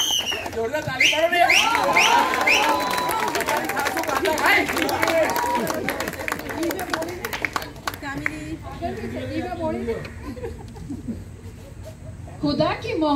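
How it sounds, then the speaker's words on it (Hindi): Guests at a birthday party clap and cheer together, the applause fading into a noisy room with voices talking throughout. "जोरदार ताली मारो"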